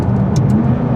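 A McLaren 570S twin-turbo V8 running close by, a loud, steady engine rumble with faint higher whooshes from the turbos over roughly one second.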